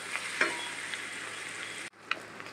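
Shredded boiled chicken fries in a pan for white sauce pasta, giving a steady close hiss with a few sharp utensil clinks before a short break and one more scrape.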